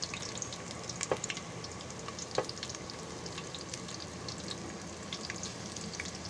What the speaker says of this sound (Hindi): इधर हमारे पकोड़े बन रहे हैं